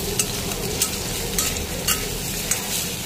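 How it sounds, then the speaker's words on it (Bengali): Potatoes sizzle in hot oil in a wok, a close, steady crackle with regular light clinks and scrapes of a spatula roughly every half second. "বন্ধুরা, আমার আলুগুলো ভাজা হয়ে এসছে"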